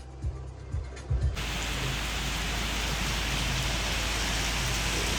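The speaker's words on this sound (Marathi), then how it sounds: "एवढा बघा विचार कर, लय पाऊस आहे," Heavy rain starts abruptly after a second of quieter mechanical clicking, then pours as a loud, dense, continuous hiss that stays steady to the end.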